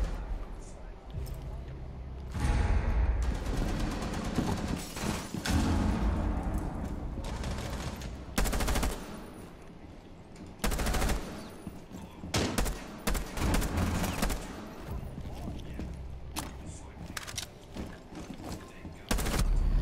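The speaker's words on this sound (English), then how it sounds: "Oh, I hear more gunshots." Repeated gunshots and bursts of automatic gunfire in a video game hostage match, loud and dense in sharp clusters, with a player's voice talking over the shooting.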